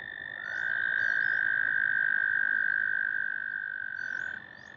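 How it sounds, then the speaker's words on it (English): A single long, steady American toad trill drones loud and close for several seconds, with fainter chirping calls in the background, at a pond in May. "American toads gathered here, piling up on each other, each trilling their hearts out to compete for mates"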